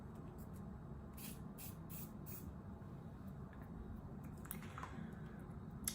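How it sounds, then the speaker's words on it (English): Several short hissing bursts from a face setting spray mist near the microphone, spaced a beat apart, with a softer spray or two later against a faint room background. "we're gonna spray my face with this real quick, just to kind of melt in the powders"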